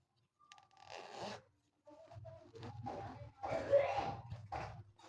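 A clothing zipper on running gear being pulled open and shut, a few quick rasping strokes separated by short pauses, close and fairly quiet.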